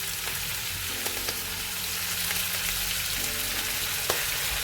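Meat sizzling and frying in a pot for a traditional Transylvanian goulash, a dense steady crackle with occasional sharper pops and light stirring, close and continuous without talk.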